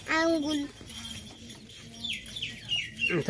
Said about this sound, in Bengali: চমৎকার একটি মুরগি, এটাকে বলে বাহামা মুরগি, হোয়াইট বাহামা।